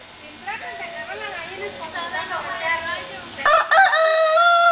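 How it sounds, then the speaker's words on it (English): A rooster crows loudly near the end, a long bright call. Before it, excited voices chatter and shout over a busy background. "Touch the rooster."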